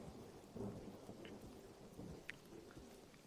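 Rain and thunder in the video game Mind Over Magic: a steady rain hiss with low rumbling thunder underneath and a few brief drip-like clicks, with no voices.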